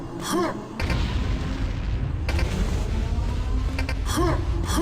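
A detonation charge explodes in the video game Quake 2 with a sudden, loud, roaring blast that sustains as a heavy rumble for several seconds.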